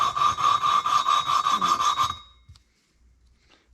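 Hand grinding of engine valves on a John Deere STX38 lawn tractor: rhythmic back-and-forth grinding scrape, about a dozen quick even strokes with a ringing metallic edge, then it stops and falls quiet.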